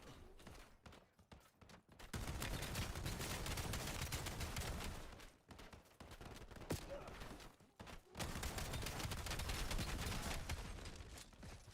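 Shotgun blasts and sentry gun fire in the shooter game Black Ops 7, with rapid, sustained bursts of loud gunfire broken by short pauses.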